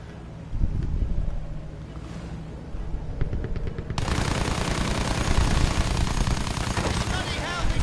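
Rapid bursts of gunfire from an anti-aircraft fight against a German plane in Battlefield 1, dense and loud with heavy rumbling and wind-like roar, growing fuller and more sustained in the second half.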